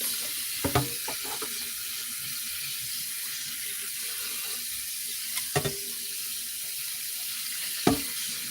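A pot is rinsed under a running kitchen tap, a steady hiss of water with a few short clanks of the pot against the sink, close and alone with no talk.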